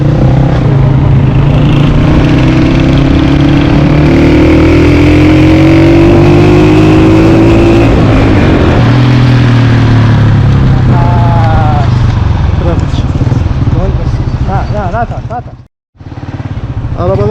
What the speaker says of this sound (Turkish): motorla gidiyoruz